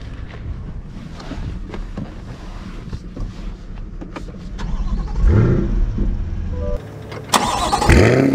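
A Chevrolet Corvette C8 Z51 convertible from 2023 starts with a rising whine about five seconds in and a second burst near the end, the engine revving loudly and close up over wind noise.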